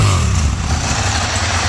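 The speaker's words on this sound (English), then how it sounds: "Just going to do one quick more blast of the exhaust for you to hear it's like." A Ducati Monster 1100 motorcycle sits close by with its exhaust blasting, a loud, deep, continuous engine roar that holds steady throughout with only slight swells.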